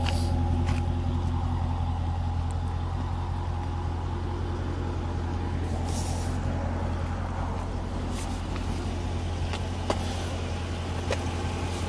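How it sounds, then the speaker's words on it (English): A 2015 Dodge Challenger R/T Scat Pack idles with a steady, deep exhaust rumble close by, held at an even level throughout with no clear rev peaks and no talking. "let's hear the mufflers again."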